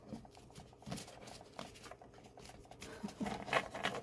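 Pocket-size Wild Unknown Archetypes tarot cards being shuffled, a soft, close run of light papery riffles and pats that grows busier toward the end, with no talk over it.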